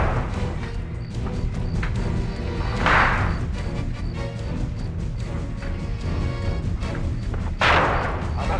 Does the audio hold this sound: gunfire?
yes